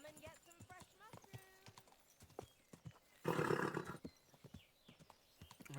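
Hooves clip-clop close by while a horse snorts and whinnies, with a loud burst of neighing in the middle; a person talks intermittently throughout.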